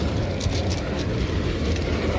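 Oil tanker freight train rolling past in Jersey City, a steady broadband rumble with rail noise held at an even level throughout, nearby and fairly loud with no pauses.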